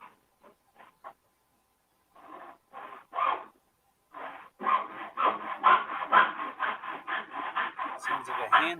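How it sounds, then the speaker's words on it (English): A handsaw cuts through wood in quick back-and-forth strokes, starting with a few tentative scrapes, then settling into a steady rasping rhythm close by. "Sounds like a handsaw."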